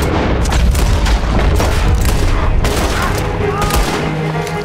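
Rapid bursts of gunfire in Red Dead Redemption 2, loud repeated shots and booming reports in close succession with game ambience, continuing throughout the few seconds.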